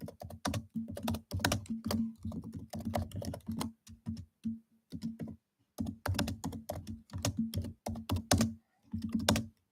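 Rapid clattering keystrokes on a computer keyboard come in bursts with short pauses, close and fairly loud, with no talking over them.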